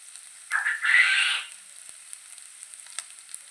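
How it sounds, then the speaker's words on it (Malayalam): Garlic and ginger hit hot oil in a pan with a sharp burst of sizzling that lasts about a second and then fades, leaving faint crackles and ticks, with no talking. "ഈ വെളുത്തുള്ളി ഇഞ്ചിയൊക്കെ ഇട്ടത് നന്നായിട്ട് മൂത്ത് വരണ്ട കേട്ടോ"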